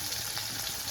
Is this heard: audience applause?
no